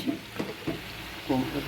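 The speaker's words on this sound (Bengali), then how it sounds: "দেখেন কুমড়ো দিয়ে নেড়ে দিচ্ছি" Pumpkin is stirred into a shrimp curry in a pan, making a brief burst of sizzling and scraping with a voice speaking over it.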